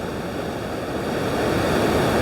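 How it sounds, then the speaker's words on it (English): Ocean waves wash and break on a Welsh beach, a continuous broadband surf roar, fairly loud and steady with slight wind noise and no voices. "some of these waves are awesome as well."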